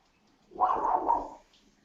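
A dog gives a single muffled bark or yelp at a moderate distance, about a second long, in an otherwise quiet room.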